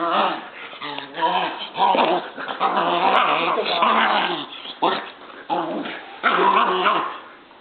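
Two 8-week-old German Shepherd puppies wrestle up close, trading bursts of playful growls, yips and small whimpers that rise and fall in quick, uneven rounds.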